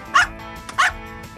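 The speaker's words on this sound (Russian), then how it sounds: "А у меня собака тут бегает." A pet dog indoors in a house gives two sharp, close barks about half a second apart, with a small yip between them and faint room noise around them.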